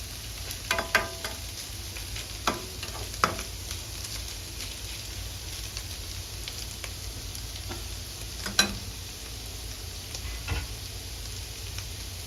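Bamboo shoots and egg sizzle in a hot pan while being stir-fried, with a steady frying hiss broken by scattered clinks and scrapes of the utensil, close and moderately loud.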